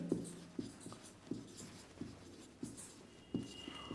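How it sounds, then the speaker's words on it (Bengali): Chalk or marker strokes on a board during a physics lecture on vector components: a quiet series of short taps and scratches in an irregular rhythm, close by, with no talking. "আমরা একটু লিখি"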